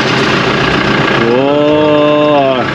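A newly delivered Toyota Hilux with a diesel engine idles in a steady, even rumble heard close and loud, with no speech.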